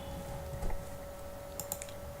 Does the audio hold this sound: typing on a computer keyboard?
yes